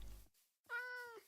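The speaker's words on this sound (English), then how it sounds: "Did I just hear a cat?" A single clear cat meow from a Minecraft cat, rising and holding for about half a second after a brief low rumble, fairly close and heard alone.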